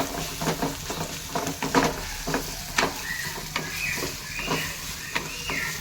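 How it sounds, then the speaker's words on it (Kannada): Onions frying in oil for a cauliflower (gobi) dish, with a steady close sizzle broken by repeated scraping and stirring strokes of a spatula in the pan. "ಆನಿಯನ್ ಕೂಡ ಚೆನ್ನಾಗಿ ಫ್ರೈ ಮಾಡೋಣ. ಲೈಟ್ ಪಿಂಕ್ ಕಲರ್ ಬರೋವರೆಗೂ ಚೆನ್ನಾಗಿ ಇದಕ್ಕೆ ಆಯಿಲಲ್ಲೇ ಫ್ರೈ ಮಾಡ್ಕೋಬೇಕು"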